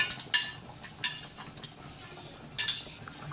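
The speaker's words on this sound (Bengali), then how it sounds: "এখন আমি এর মধ্যে ভেজে রাখা টমেটোগুলো দিয়ে দেব" Fried tomatoes go into a simmering fish curry (rui macher jhol with potatoes) and get stirred: quiet bubbling under a few sharp, scraping clinks of a spoon against the pot, close by, with no talk.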